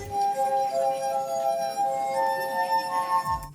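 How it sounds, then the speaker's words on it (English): A finger circling the rim of a drinking glass makes it sing, a pure sustained ringing tone with a second higher note joining partway through, clear and close, ending in a brief clink. "running your finger around the rim of a glass at just the right speed will produce sound"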